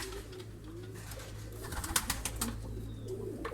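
Pigeons in a breeder's coop in Karacabey, Bursa, with soft low coos drifting over a steady hum, faint wing or perch noises and a few brief sharp sounds, fairly quiet and close.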